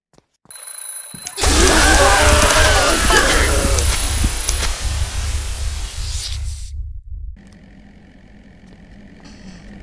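A Snipper jumpscare in the horror game Night of the Scissors, a sudden deafening burst of harsh, distorted screeching noise that blares for several seconds, then cuts to quieter game ambience.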